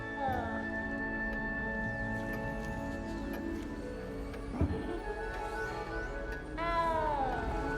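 A small cat meows a few times in the video game Hogwarts Legacy, with tonal mews rising and falling over a quiet game background, the last mew loudest near the end.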